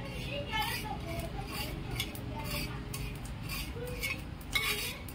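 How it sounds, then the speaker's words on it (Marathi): Poppy seeds being dry-roasted and stirred in a pan for patodi masala, giving soft scraping and light clinking of a spoon against the metal, quiet and close, with intermittent small ticks. "खसखस भाजून घेते, तिला पटपट भाजायची,"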